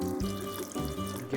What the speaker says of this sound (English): I'm gonna add a little bit of water.